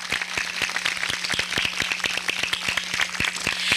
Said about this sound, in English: So can we give them a special round of applause?